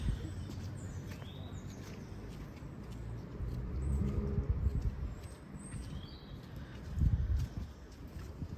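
Small birds chirp and call faintly along the York city wall walk, thin scattered tweets over a steady outdoor hum of distant traffic and footsteps.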